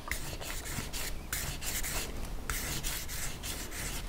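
Sandpaper rubs back and forth over the soldered seam of a handmade metal jewelry ring in a quiet, steady, rhythmic scratching close by, with no talking.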